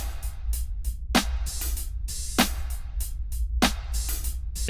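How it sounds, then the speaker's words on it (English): Programmed R&B drum beat with hi-hats, kick and snare, snare cracks landing steadily about every 1.2 seconds over ticking hats and a low kick, fairly soft and without talking. "If we add the kick and the snare in, it sounds like this."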